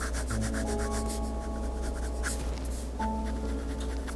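Prismacolor beige colored pencil layered over brown shading on paper, a soft continuous rubbing scratch with light strokes, close and quiet, alone.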